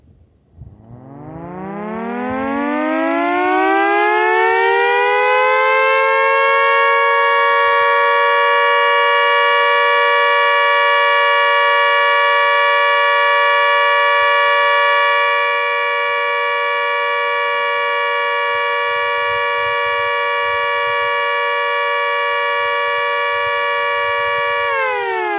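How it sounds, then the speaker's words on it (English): Castle Castings mini siren running at 50 hertz, winding up from a low growl to a steady loud wail in the style of a British siren, then holding its pitch for a long sustained tone; close and alone. "going to try and run this up and make it sound like a British siren"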